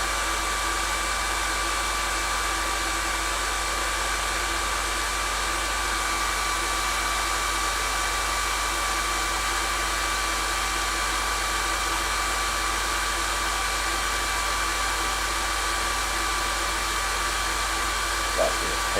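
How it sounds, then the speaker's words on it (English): A hair dryer drying a painted miniature model blows in a steady, unbroken whoosh with a motor hum for the whole stretch, close and constant with no talk over it. "Andy's just drying some of his model with a hairdryer."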